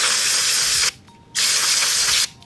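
Brake cleaner sprays from an aerosol can onto a trailer wheel bearing in two long, loud, close hissing blasts with a brief pause between them.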